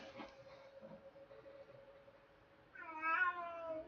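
A single drawn-out cat meow rises clearly near the end after a quiet stretch with a faint steady hum in the background.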